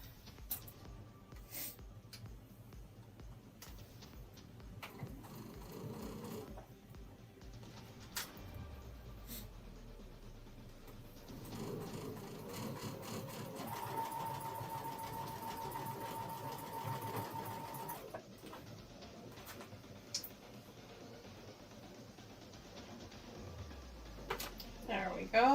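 A sewing machine stitching a quilt block runs in stretches of steady rapid whirring, stopping and restarting, close by, with a person talking quietly between runs.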